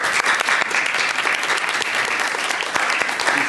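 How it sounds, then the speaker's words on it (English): A roomful of people claps for a guest at a tech talks kick-off event, sustained applause with a few sharper individual claps standing out near and loud. "a very talented, please round of applause."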